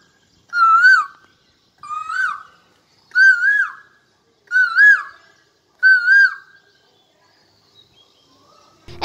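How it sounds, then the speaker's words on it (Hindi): An Asian koel calls five times in a row from a jamun tree beside a building, each clear, rising whistled phrase separated by short pauses, loud and close with little else around. "कोयल की प्रतिक्रिया सुनाई देने लगी"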